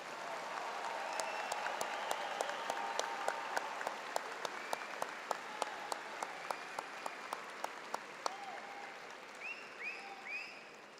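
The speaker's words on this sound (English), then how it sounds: "Let's have a round of applause for our graduates one more time." Graduates at a spring Business Administration commencement get sustained audience applause: dense, steady clapping with crisp individual claps standing out, fading into a thinner patter near the end.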